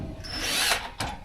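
A power drill loosens bolts during a van conversion build, a sustained whirring spin of about half a second that winds down, then a second short burst of drilling right after, close and loud with no talk.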